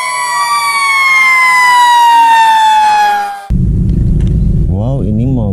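A fire truck siren wails loud and close with a long falling tone, then breaks off into a rumbling engine and a rising, wavering siren sweep.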